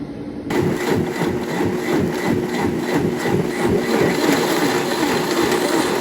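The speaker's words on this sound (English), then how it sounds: "My blender" A kitchen blender runs steadily and loudly throughout while cassava leaves are being prepared for palm nut soup, its motor droning with a slight pulsing rhythm and no talk over it.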